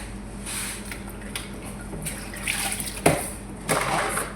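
Water is poured into a cooking pot, splashing and trickling, gentle and close, with a few louder splashy bursts near the end.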